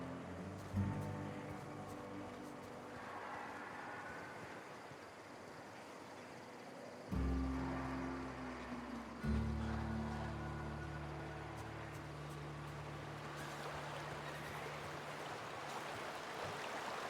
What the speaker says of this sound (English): Always got to check under the waterfall.